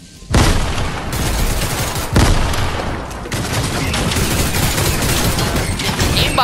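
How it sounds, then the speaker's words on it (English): Grenades explode in Fortnite, two heavy blasts a couple of seconds apart, each followed by sustained crackling gunfire-like roar, loud and close with no talking. "I'm gonna try and throw some grenades at him."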